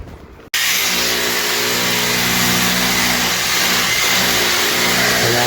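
A large vehicle's engine starts and then runs steadily and loudly nearby, a constant rumble with a faint revving quality, no voices over it.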